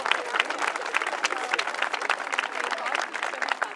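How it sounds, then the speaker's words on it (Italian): Applause from a crowd at an outdoor civic ceremony in Ballò, Venice, naming a square after Tina Anselmi on March 8; steady, dense clapping that carries evenly throughout with no talk. "Un applauso."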